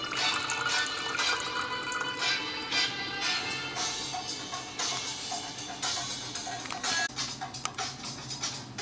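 Water is poured into a coffee maker, filled to the two-cup line: a steady, close splashing and trickling stream with small drips and scrapes, continuous throughout with no talking.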